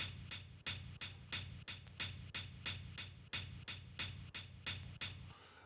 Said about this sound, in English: It all started with this hi-hat pattern right here